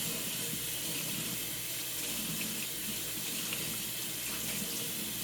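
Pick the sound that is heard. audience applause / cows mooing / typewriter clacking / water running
water running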